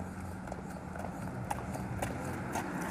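Horse hooves clip-clop at a busy horse and animal fair in Abreu e Lima, Pernambuco, light repeated knocks over murmuring crowd noise and distant talk, fairly faint.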